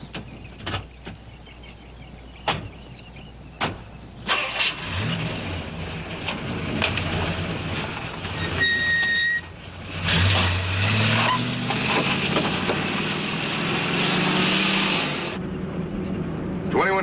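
A car starting up and pulling away, with door clunks, the engine rising and accelerating as it drives off, fairly close under voices talking.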